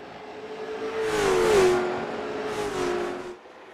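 Late model race cars roar past at North Wilkesboro Speedway, loud engine drones swelling and fading as two cars pass in succession, with a steady rev tone beneath.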